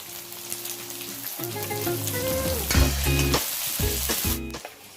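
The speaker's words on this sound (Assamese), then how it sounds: "এনেদৰে লং, ইলাচি, ডালচেনি, পিঁয়াজ, নহৰু, তেজপাত সকলোবোৰ দি অলপ সময় ভাজি লৈছোঁ" Cloves, cardamom, cinnamon, onion, garlic and bay leaf fry in hot oil for a mutton curry cooked over a wood fire, giving a close, steady sizzle with occasional stirring scrapes throughout.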